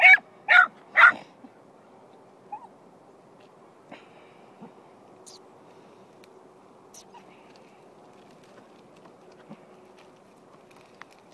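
Three quick, loud dog barks at the start, followed by a quiet stretch with faint scattered noises.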